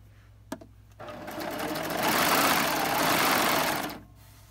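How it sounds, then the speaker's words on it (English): A serger sews the side seams of a pair of shorts from top to bottom: a single click, then the machine whirs up into a steady, fast buzzing hum for about three seconds before stopping. "We're going to serge those side seams from top to bottom."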